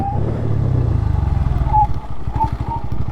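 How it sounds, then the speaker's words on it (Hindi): Bajaj Pulsar N160 motorcycle (2024 model) during a rear brake ABS test from about 60 km/h: a steady engine drone drops away, followed by rapid rhythmic pulsing and clatter as the brake modulates, recorded close up. "अब रियर ब्रेक को भी सेम टेस्ट करेंगे दोस्तों"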